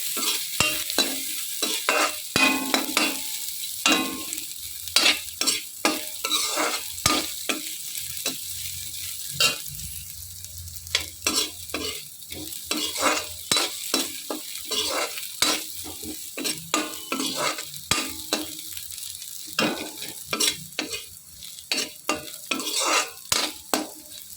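Grated coconut frying in a pan while being stirred, with repeated scraping strokes of a utensil against the metal over a continuous sizzle, sometimes pausing briefly between bursts of stirring.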